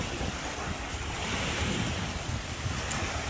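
Big sea waves churning near a small fishing boat on Taal, a continuous loud roar of surf and water with heavy wind buffeting the microphone, no voices.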